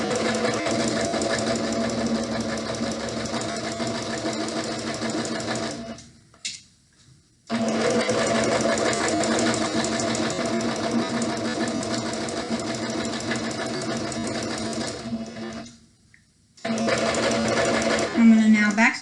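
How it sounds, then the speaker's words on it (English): A sewing machine stitches the pinned edges of a pillowcase, a close, steady whirring hum in two long runs broken by brief stops, with backstitching toward the end. "I'm going to now backstitch, forward, backstitch that very little end"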